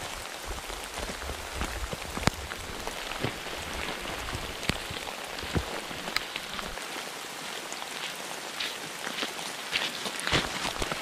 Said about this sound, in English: we've been receiving a lot of rain